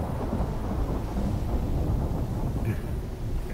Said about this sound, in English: It looks like the worst of the storm's over with now.